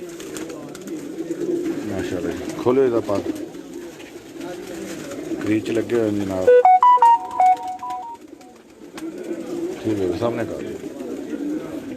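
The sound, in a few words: pigeons cooing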